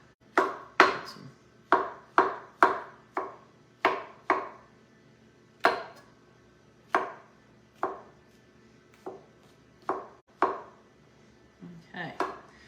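A knife chops mushrooms into small pieces on a cutting board, sharp close-up strikes in irregular bursts of two or three, about fifteen cuts with short pauses between.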